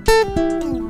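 A looped acoustic guitar part from a song plays at full speed, with quick plucked notes and a slide or pull-off ringing over a sustained low tone, close and fairly loud.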